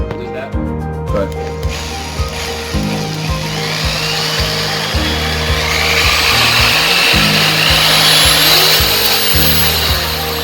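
A power tool whirs in repeated bursts with short pauses between, close and steady, with mechanical clicking and a rising whine toward the end.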